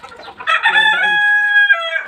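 A rooster gives one loud, close cock-a-doodle-doo, a rising strained call that holds a long, sustained tone before breaking off, with no other sounds around it.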